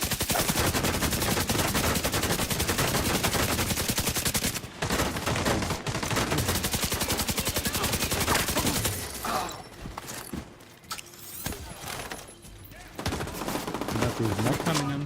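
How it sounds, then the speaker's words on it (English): Rapid automatic gunfire from an online shooter video game, loud and sustained in dense bursts, breaking briefly and then resuming with scattered shots and clatter. "I'm under fire."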